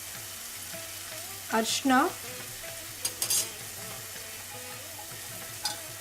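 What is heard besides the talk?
spice powders (cumin, coriander, pepper) frying in oil on low flame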